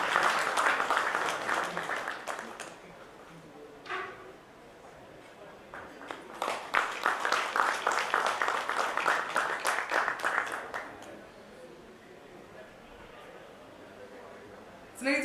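Conference audience at a procurement leaders summit applauding a panelist, clapping rising and swelling mid-clip before tapering off, heard at moderate distance in a large hall.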